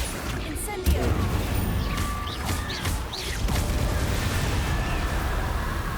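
An Incendio fire spell bursts in Hogwarts Legacy with a sudden blast, followed by a rumbling, crackling roar that lasts several seconds, broken by a few sharp impacts.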